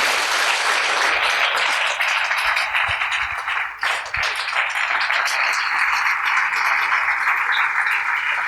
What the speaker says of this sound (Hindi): सभी लोग एक बार जोरदार तालियों के साथ स्वागत करें